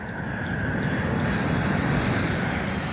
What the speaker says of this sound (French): le DC-10 endommagé revient vers l'aéroport de Détroit